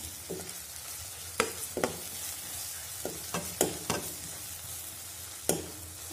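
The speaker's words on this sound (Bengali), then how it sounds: "আদা রসুন বাটাটাকে একটুখানি ভেজে নেব যেন কোনো কাঁচা গন্ধ না আসে" Ginger garlic paste frying in a pan for spiced eggplant and potato: a low continuous sizzle broken by several sharp spatula scrapes and taps against the pan, no talking.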